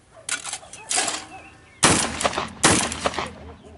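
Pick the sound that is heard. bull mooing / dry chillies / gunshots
gunshots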